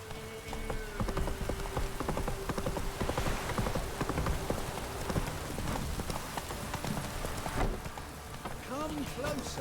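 The horse Roach gallops through rain in The Witcher video game, with quick rhythmic hoofbeats under steady rainfall and a voice speaking near the end.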